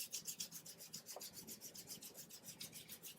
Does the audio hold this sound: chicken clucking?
no